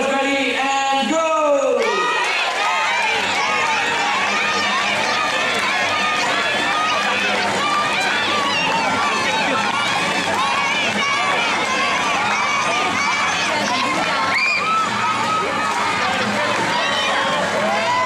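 A crowd cheers loudly and continuously during a bird race at a park bird show, with a dense, sustained roar of voices and shouting. A brief voice or whistle-like call is heard at the start.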